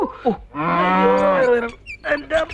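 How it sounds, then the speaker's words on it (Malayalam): A bull calf or cow bellowing in a Malayalam movie scene: a long, loud, drawn-out moo in the middle, framed by shorter lowing calls before and after. "3-4 ദിവസമായില്ലേ ആ പയ്യൻ നിന്ന് അമറിലോട് അമറില്."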